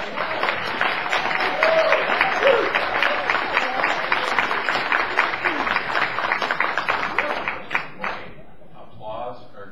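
A political forum audience in Red Deer breaks into loud, sustained applause of many hands clapping for several seconds, then dies away into scattered claps and a voice.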